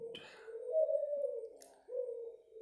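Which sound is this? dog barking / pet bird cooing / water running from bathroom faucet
pet bird cooing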